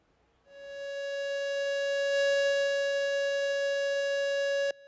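A memorial siren sounds at Jeju 4.3 Peace Park on a foggy, rainy day during the memorial ceremony: one steady, unwavering tone starts after a brief silence, holds loud for about four seconds, then cuts off sharply.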